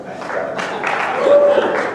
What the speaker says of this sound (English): I feel the warmth of the applause there.